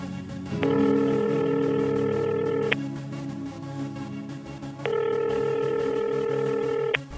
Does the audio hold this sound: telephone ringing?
yes